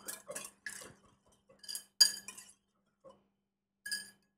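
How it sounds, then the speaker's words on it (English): A tofu marinade is whisked in a bowl, giving short bursts of light clinking and tapping against the bowl with brief pauses, close and fairly quiet, with no voices. "I'm just going to whisk that all together."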